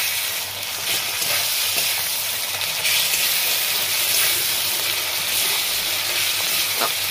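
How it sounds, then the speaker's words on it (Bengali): Onions frying in a pan with ginger-garlic paste for Kolkata-style chicken kima masala, a steady loud sizzle with occasional stirring scrapes throughout, no voices. "পেঁয়াজগুলো আমার অর্ধেক ভাজা হয়ে গেছে"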